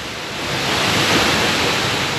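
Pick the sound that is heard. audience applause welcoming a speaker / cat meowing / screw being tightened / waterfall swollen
waterfall swollen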